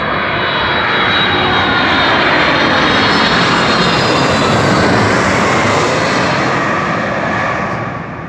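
A low-flying airplane roars overhead right beneath the runway approach at Memphis, Tennessee, a loud, sustained engine rumble and whine that builds quickly and holds, then fades slightly at the end.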